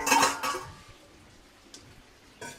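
Metal kadai pan clattering as it is handled while greens cook, with a loud burst of clanks at the start, a brief knock midway and another clatter at the end.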